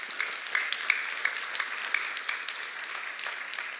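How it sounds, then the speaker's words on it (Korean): Encouraging applause from a Korean church congregation at a Sunday downtown campus service for its ministry team leaders, a crowd of hands clapping steadily with scattered sharper claps standing out. "이분들께도 우리 격려의 박수 한번 올려드리기 바랍니다."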